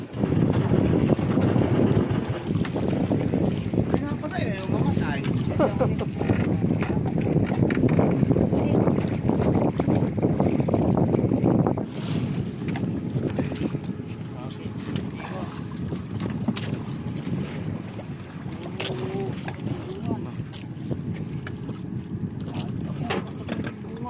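A misfiring boat engine drones steadily throughout, mixed with wind buffeting the microphone, while people talk over the noise.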